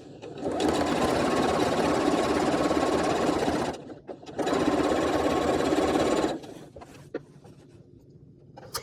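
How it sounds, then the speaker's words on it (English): A sewing machine stitches a quarter-inch seam down the sides of a quilt block in two loud, steady runs of rapid needle chatter separated by a short pause, followed by quieter handling clicks. "take it over to the sewing machine. We're going to draw or sew a 1/4 inch down each side"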